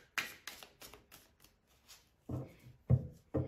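Tarot cards being handled, shuffled and turned over on a table during a reading, a run of soft papery flicks followed by a few sharper slaps as cards land, close and fairly quiet with no talk.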